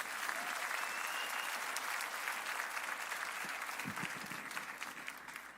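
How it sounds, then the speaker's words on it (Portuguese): A church congregation applauding for Jesus, a steady, dense wash of clapping from a large crowd that fills the room for several seconds, heard from a distance and fairly faint. "Quantos podem dar uma salva de palmas para o Senhor Jesus por isso?"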